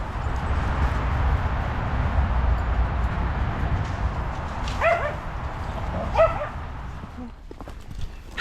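At an outdoor dog triathlon event in Edinburgh, a dog gives a few short, sharp barks a couple of seconds apart over steady, rushing background noise.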